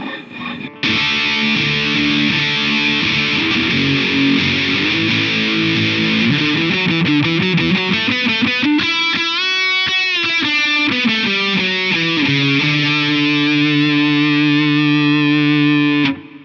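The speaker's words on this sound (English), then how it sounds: "how I normally use this pedal, I mainly use it almost kind of like the last setting, just a slightly bit less distortion and slightly more tone" An electric guitar runs through an MXR Custom Badass '78 Distortion pedal set with slightly reduced distortion and more tone, playing thick, sustained distorted chords and shifting riffs loudly and continuously for about sixteen seconds with no talking.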